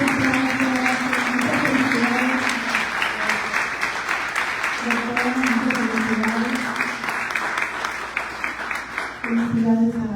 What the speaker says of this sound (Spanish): por favor un aplauso a todos ustedes